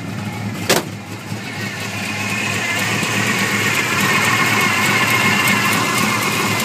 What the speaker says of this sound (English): Let you listen to the engine one more time.